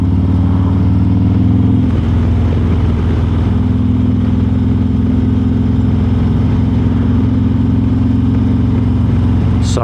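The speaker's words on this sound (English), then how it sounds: "just enjoy the cammed engine" A Harley-Davidson Road Glide ST with a cammed engine rumbles steadily while riding through a canyon, loud and close, with a deep lumpy drone that shifts as gears change and holds a constant cruising throb.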